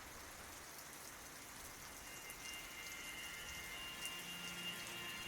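Steady rain falls on a rainy night, a dense even hiss of drops that holds constant and slightly swells toward the end, with no voices.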